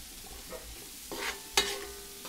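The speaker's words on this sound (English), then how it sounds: "I'm also going to add in four tablespoons of butter" Butter sizzles in a pan with cooking lamb, a faint, soft frying hiss marked by a few sharper crackles and pops, with no talk.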